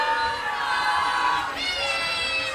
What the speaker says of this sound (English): Sound like the Piscataway crowd's trying to get everybody riled up here